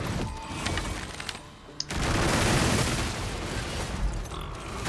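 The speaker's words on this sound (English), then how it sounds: "I do kind of like the machine gun fire." Machine gun fire in the fantasy game Dragon's Dogma II: a dense, sustained rattling burst that swells loudly after a brief lull, with scattered sharper cracks earlier on.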